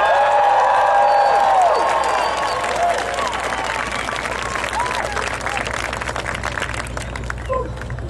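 A rally crowd at a Bernie Sanders event applauds and cheers to welcome speaker Liz Hernandez, loud sustained clapping that slowly tapers, with a voice speaking over it at the start.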